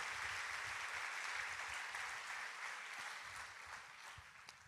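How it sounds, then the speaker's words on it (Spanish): A church congregation applauding, a dense steady wash of many hands clapping that holds strong throughout and tapers slightly toward the end, with no voices on top. "Si va a aplaudir al Señor, hágalo con toda su fuerza"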